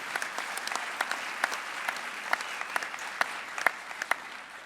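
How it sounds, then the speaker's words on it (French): An audience at the opening session of a conference applauds, a moderate wash of clapping with distinct individual claps popping out irregularly, heard from a little distance. "Oui, on peut les applaudir."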